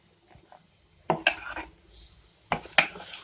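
A spoon mixes bajji batter in a bowl for beetroot bonda, giving a few sharp close clinks and scrapes against the bowl separated by short quiet gaps.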